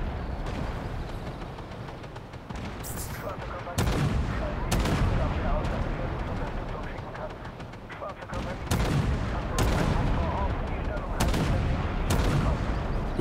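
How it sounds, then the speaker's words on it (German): Tank cannon fire from the video game Armored Warfare, on a BWP-2000 vehicle: repeated sharp, loud shots at irregular intervals over a steady rumbling engine bed, with a voice talking intermittently underneath. "hier habe ich dann sehr viel daneben geschossen"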